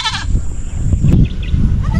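A single short goat bleat at the very start, followed by steady rustling and low background noise.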